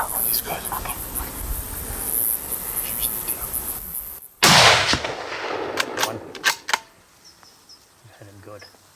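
A single sharp gunshot cracks out partway through, fired at a turkey during a hunt in New Zealand's Leithen Valley, followed by hushed voices, rustling and insect chirping in the open countryside.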